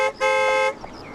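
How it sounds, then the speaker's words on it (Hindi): A car horn sounds two short blasts close by, the first a quick toot and the second held longer, a bright steady tone that ends abruptly before quieter background noise. "अरे हॉर्न मारो ना भाई"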